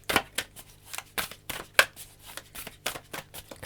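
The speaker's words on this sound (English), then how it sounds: "I give it a couple of shuffles and then take the one from the top" Tarot cards are shuffled by hand in a quick series of crisp riffling bursts, about a dozen short papery flutters in an uneven rhythm, close up with no talking.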